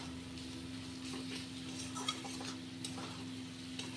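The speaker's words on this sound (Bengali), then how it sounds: "তো মশলাটা ভালো করে লাল করে ভেজে নিই" Spice paste for a loitta (Bombay duck) fish dish frying in a pan without water until it reddens: quiet, continuous close sizzle with faint spoon scrapes, over a steady low electrical hum and no speech.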